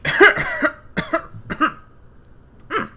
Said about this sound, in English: got quite the cough there